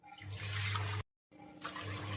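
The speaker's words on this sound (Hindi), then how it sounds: "उसी बाउल से 2 बाउल पानी ऐड कर देंगे" Water pours steadily into a metal pressure cooker holding chickpeas, in two splashing streams separated by a brief pause.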